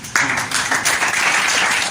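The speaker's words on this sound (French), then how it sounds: "Acclamation pour le Messie, s'il vous plaît." A church congregation claps in acclamation during a worship service, a thick, even wash of many hands that starts abruptly and stays loud and steady.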